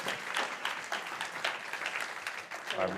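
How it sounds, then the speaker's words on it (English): Audience applause for a panel at a tech, creative arts and innovation event on Queen Elizabeth Olympic Park, a dense, steady patter of many hands clapping with a voice mixed in beneath. "A round of applause for our panel."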